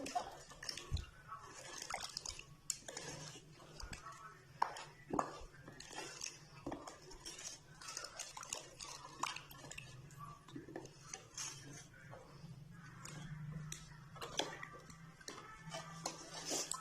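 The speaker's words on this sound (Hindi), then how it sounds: "अच्छी तरह इन सारी चीज़ों को मिक्स करेंगे, पानी, मसाले और अदरक लहसुन के पेस्ट को" A spoon stirs water, spices and ginger-garlic paste in a bowl, with soft continuous scraping and light clinks, quiet and close.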